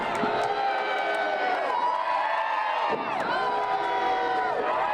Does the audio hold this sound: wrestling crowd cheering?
yes